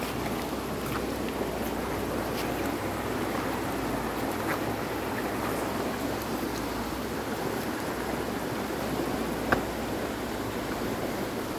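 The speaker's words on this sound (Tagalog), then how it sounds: "Lakas ng agos." Strong current of the Aramaywan river rushing steadily, a constant broad wash of flowing water with no pauses, fairly loud and close.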